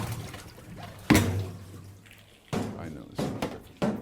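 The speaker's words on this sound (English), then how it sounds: "You want to get the water adjusted in the sink so that the berries don't come out over the top of it." Water runs and splashes into a sink as berries are washed on an agroforestry farm, coming in several sharp bursts over a steady flow, with people talking throughout.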